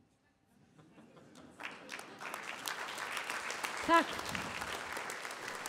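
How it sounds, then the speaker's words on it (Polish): An opera audience breaks into applause before a Chinese tenor takes the stage, the clapping swelling from silence into a steady, dense roar, with a brief spoken word early on. "Jeszcze nie przyszedł, a ludzie już klaszczą."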